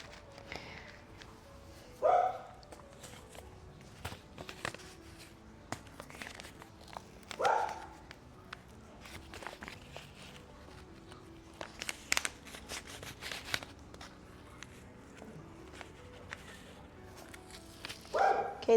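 A dog in a winter garden gives a few scattered barks at wide intervals among small knocks and rustling, fairly faint and not very close.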